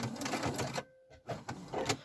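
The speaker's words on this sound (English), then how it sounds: "I'm just going to sew across the bottom." A sewing machine stitches across the bottom of a fabric advent calendar in rapid mechanical bursts, pausing briefly midway and then running again, close and fairly loud.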